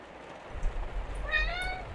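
A cat meows once, a clear, drawn-out call near the end, heard close up over a low indoor rumble.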